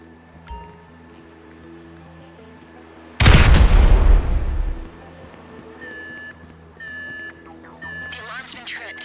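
In GTA 5, a sudden loud blast erupts and rumbles for over a second, then an electronic alarm starts beeping in repeated bursts.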